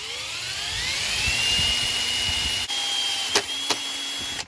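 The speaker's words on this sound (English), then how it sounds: "I'm gonna use an 1/8 inch drill bit as a pilot bit to get me started" A power drill bores a pilot hole with a 1/8 inch bit while fitting fog lights to a 1977 Ford 4x4 truck, a steady high whine that rises in pitch, then a few sharp clicks as it stops.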